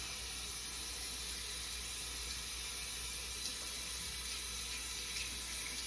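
A makeup brush rinsed under a running tap at a sink, a steady broadband hiss of flowing water that holds evenly throughout with no talking.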